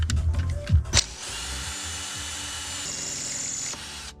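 A power drill with a slightly larger bit whirs steadily at high speed into a bolt on a VR5 engine's intake manifold for a few seconds after some brief clunking, its pitch rising slightly before it stops.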